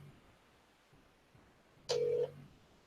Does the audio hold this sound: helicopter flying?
no